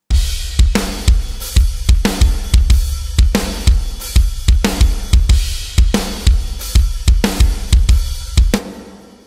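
Full drum kit played in a steady groove after processing through a channel strip plugin, punchy kicks and snares repeating in a regular rhythm with bright cymbals, loud and close, no voices.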